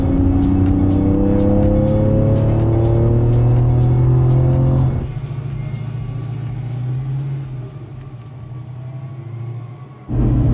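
A Nissan Silvia S14 race car with an LS1 V8 roars loudly at high revs on a hot lap of a track, gear pitches rising, then drops to a rougher, lower drone before surging again near the end.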